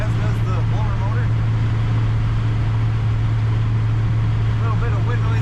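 Steady wind roar and low engine hum inside a moving 1955 Chevrolet 3100 pickup truck, loud and constant throughout with no pauses.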